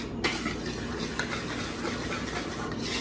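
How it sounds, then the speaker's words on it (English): Dry cookie ingredients with salt are stirred in a bowl, a continuous scraping, rustling mix with small clinks from a utensil, close and steady. "We're going to mix this so that it is all incorporated."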